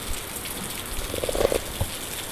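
Rain falls on a flooded street in Balagayol, a soft steady hiss with a few faint drips and splashes standing out midway.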